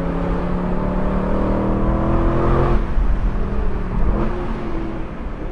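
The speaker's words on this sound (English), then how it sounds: "This ferocious roar is chasing you up this canyon." An Aston Martin V8 Vantage S Roadster's engine roars as it accelerates hard up a canyon road, a loud, continuous rising growl with gear-change dips and no talking over it.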